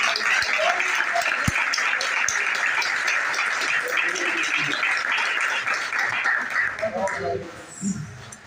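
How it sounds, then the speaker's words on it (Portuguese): A church congregation breaks into dense, sustained clapping during a sermon, filling the whole stretch at close range before thinning out near the end, with voices mixed in. "Dá uma salva de palmas para Jesus."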